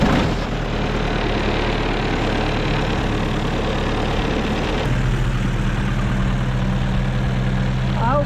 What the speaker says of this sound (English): I guess I'll get the stump grinder unloaded and see what we can come up with.